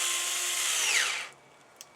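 A power drill whines loudly for about a second and a quarter, its pitch sliding as it runs down, then cuts off into near quiet with a small click afterward.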